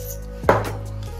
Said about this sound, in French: Maintenant, on va poivrer.